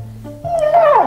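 A husky vocalizes in a drawn-out, rising and falling whine-howl that swoops upward then bends down, loud and close, a single continuous utterance with no talk over it.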